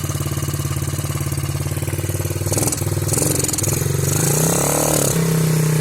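A Suzuki DR-Z70 dirt bike engine, just fitted with a new carburetor and not run in years, idles loud and close with a rapid steady thump, then briefly revs and settles back to idle.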